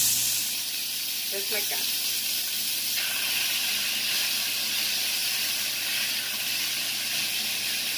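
Beef sizzles steadily as it sears in a pot for Tex-Mex carne guisada, a constant loud hiss with faint clinks, while a person talks over it.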